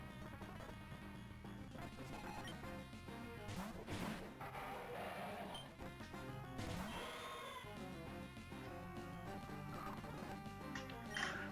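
An explosion attack lands in a Pokémon video game, a loud crashing burst within a dense, continuous wash of game music and effects, with a few sharper hits scattered through.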